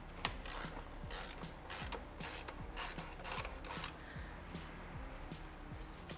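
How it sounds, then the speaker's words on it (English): A socket wrench ratchets steadily on the shock bolt of a BMW S1000RR motorcycle while an Öhlins TTX shock is installed, a close run of about a dozen even clicking strokes with no talk. "just use a socket wrench or another wrench to loosen this guy up"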